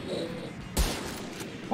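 A single sharp sniper rifle shot in a battle royale video game cracks loudly at the end of a last-player-standing fight, standing out against a low background of game ambience.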